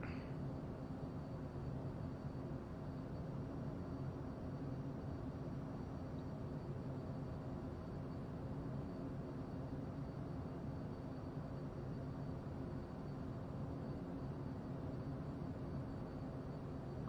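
Steady, even engine hum inside the cockpit of a Cessna CJ4 business jet in Microsoft Flight Simulator 2020, a continuous low drone with airy hiss that stays constant throughout, no talking.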